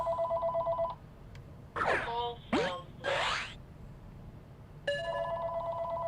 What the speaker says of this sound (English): Oh, and of course my phone wants to ring.